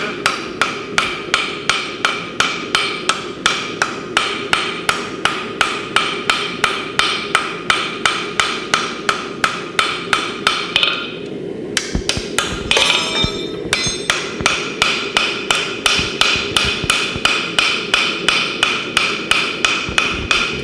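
A knife blade being hammered on an anvil: steady, ringing metallic strikes about twice a second, close and loud, with a brief pause in the middle before the rhythm resumes.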